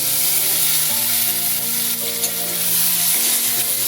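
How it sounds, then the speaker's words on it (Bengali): Boiled papaya pieces frying in hot oil left over from frying potatoes, a steady loud sizzle close by with occasional stirring scrapes and no talking. "আলু ভেজে তুলে রেখে ওই তেলেই সিদ্ধ করা পেঁপেগুলো দিয়ে দিচ্ছি।"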